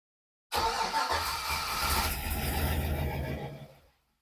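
An LS-swapped Ford Bronco II engine cranks and catches, a sudden loud starter whir turning into a steady engine drone close by before fading out toward the end.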